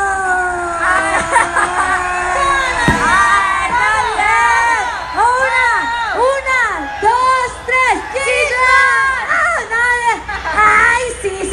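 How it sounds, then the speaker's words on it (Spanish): A crowd cheers and shouts with rising and falling whoops for the bassist at a live band performance in Zinacantán, Chiapas. The voices are loud, continuous and close throughout. "¡Un aplauso para la bajista!"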